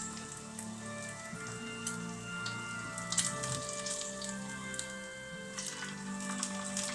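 Chicken thighs frying in a pan give a steady, close crackling sizzle with scattered pops, running unbroken throughout and no one speaking over it.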